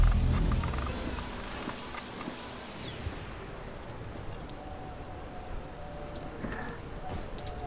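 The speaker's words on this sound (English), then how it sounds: "Raining." Rain pattering steadily in the bunker-building survival game Mr. Prepper, a soft continuous hiss at moderate level, louder in the first seconds and then settling into a quieter, even wash with faint insect-like chirps.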